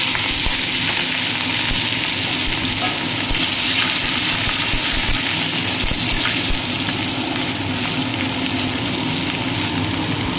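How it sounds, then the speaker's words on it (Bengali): Chopped ginger and green chillies fry in hot oil with cumin, coriander and asafoetida, giving a loud, continuous, even hiss of sizzling close by. "এবার আমি দিয়ে দেব কুচিয়ে রাখা আদা এবং কুচনো কাঁচা লঙ্কা"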